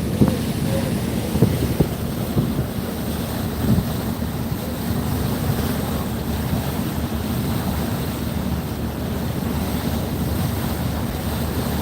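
A passenger trawler rocks and rolls across a wide river, its engine drone and churning water blending with a steady wash of wind and waves, constant and fairly loud throughout with no speech.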